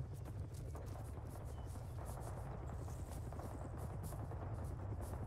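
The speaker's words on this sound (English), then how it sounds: "oh, the helicopter" A Russian helicopter flying in the Arma 3 military game, heard as a steady low rotor drone with crackly texture, moderately faint and continuous throughout, with no voices.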